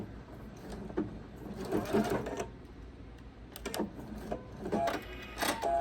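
A sewing machine runs in short bursts of rapid stitching while reverse stitching a few stitches to lock a quilt binding, with pauses between runs and the motor's whir close and moderately loud, with no talking.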